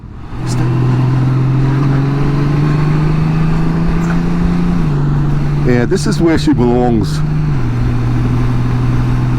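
A motorcycle engine runs steadily at speed on a low-light ride, a constant mid-pitched drone that shifts slightly as the revs change, with someone speaking briefly over it near the middle.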